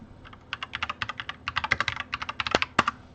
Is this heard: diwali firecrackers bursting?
no